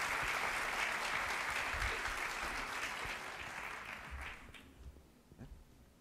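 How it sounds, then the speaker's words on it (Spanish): Audience applause at a 2018 festival talk, a dense, steady ovation filling the first four seconds before thinning out and fading to scattered claps near the end. "Recibimos con un fuerte aplauso al señor Xavier Pedro"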